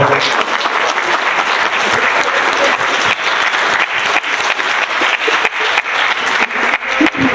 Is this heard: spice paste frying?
no